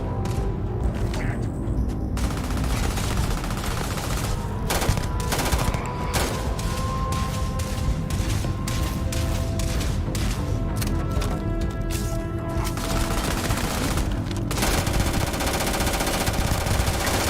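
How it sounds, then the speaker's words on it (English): Sustained automatic weapon fire while shooting enemies in Starfield, a dense, loud stream of rapid bursts lasting throughout with brief pauses and heavy impacts, no talking. "You have to shoot them a lot."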